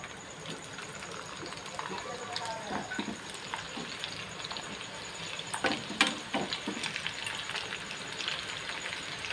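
Sitabhog batter frying in a hot karahi gives a steady, dense sizzle and crackle, with sharper pops rising near the middle, close up and continuous throughout.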